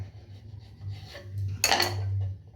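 A knife cuts through a stuffed bread slice for soybean-filled bread pakora, a soft rub and then one brief, bright scrape of the blade against the board or plate, close and alone.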